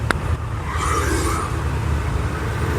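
Road traffic noise outdoors, a low steady rumble of passing vehicles heard faintly behind the speaker, with a brief sharp click near the start.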